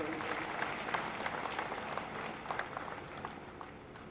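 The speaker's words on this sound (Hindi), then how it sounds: "जरा तालियां उस तरह से आनी चाहिए।" Political rally crowd clapping, a broad spread of applause with individual sharp claps standing out, moderately quiet and somewhat distant.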